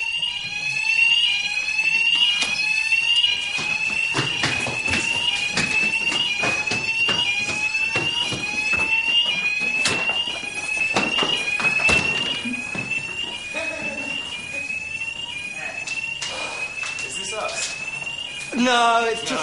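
A ceiling smoke alarm sounds in a loud, insistent stream of shrill beeps that continues for most of the stretch and then breaks off near the end, with voices talking under and between the beeps.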